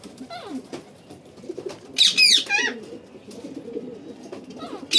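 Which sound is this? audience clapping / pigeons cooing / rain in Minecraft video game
pigeons cooing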